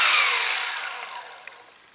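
A Makita DBO180Z cordless random orbital sander on its slowest setting is switched off, and its whirring hum fades steadily as the pad spins down to a halt over two seconds.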